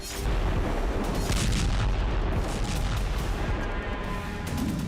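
Dense, continuous rumbling booms and blasts of a Russian night bombardment of Kyiv fill the whole stretch, loud and unbroken.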